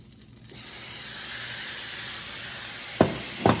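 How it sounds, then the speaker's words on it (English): Steady loud sizzling of steak for tacos frying in a hot pan, a continuous hiss with a couple of sharper crackles near the end. "love the sizzle sound"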